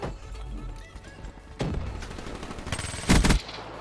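A Vesper submachine gun fires in a video game: two short, loud bursts of rapid automatic shots, the second sharper and punchier, over low background game noise.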